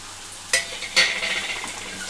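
Chopped ridge gourd goes into a hot pan and is stirred, a soft clink of utensil on the pan followed by a building, steady sizzle, close and moderately quiet with no talk.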